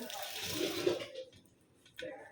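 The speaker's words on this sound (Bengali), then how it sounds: "এখন এই যে দিয়ে দিচ্ছি পোলাওয়ার চাউলগুলা" Washed pulao rice tips into a pot of boiling water with a brief rushing, rustling pour that fades to near quiet, then a short splash; a faint voice murmurs underneath.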